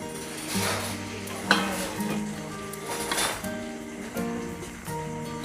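Apple snails stir-fried in a pan with curry paste, pickled bamboo shoots, kaffir lime leaves and holy basil: a spatula scrapes and clacks in repeated strokes over a soft sizzle, close up, with a steady tonal hum underneath.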